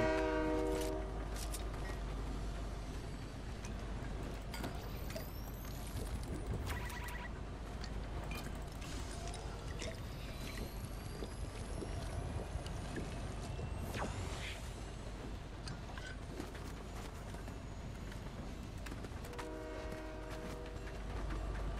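A train rolls past in Fortnite, its horn sounding in long tonal blasts at the start and again near the end over a steady, loud rumble of wheels and carriages.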